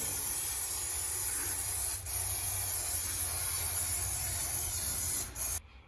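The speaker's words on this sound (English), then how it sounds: "Gonna spray a little bit of paint on the inside here to protect the bare metal." Aerosol spray paint hisses steadily onto the bare metal inside a lifted off-road welding truck, a close continuous spray with a couple of brief pauses before cutting off at the end.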